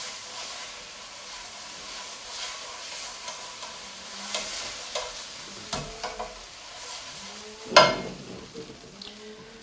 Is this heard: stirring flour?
yes